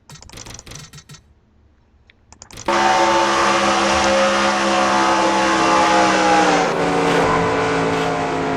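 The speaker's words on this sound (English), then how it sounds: "Now, let's go onboard to see Dylan Young just really try to save that car" Race car onboard engine in a sim racing game during a stock car series race, a loud sustained high-revving drone with shifting pitch that kicks in abruptly after a few quieter seconds of scattered clatter.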